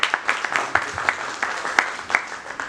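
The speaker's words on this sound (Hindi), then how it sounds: "एक बार जोरदार ताली।" Audience applause at a formal gathering in Lucknow, a dense wash of many hands clapping steadily for nearly three seconds with small bursts of louder claps, fairly close and with no voices over it.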